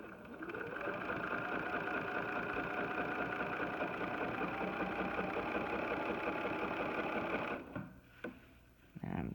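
A BERNINA sewing machine stitches free-motion quilting with an adjustable ruler foot and thick thread, a steady fast mechanical hum and rapid needle chatter running continuously before slowing and stopping near the end.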